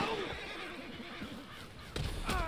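A horse whinnies loudly and close in the Red Dead Redemption 2 video game, a short wavering neigh followed by a couple of hoof thumps.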